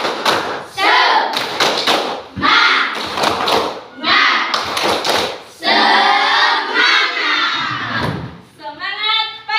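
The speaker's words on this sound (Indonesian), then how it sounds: "kita tepuk semangat dulu ya" An elementary school class doing the rhythmic tepuk semangat spirit clap, with bursts of sharp group clapping in a patterned beat and children chanting loudly in between.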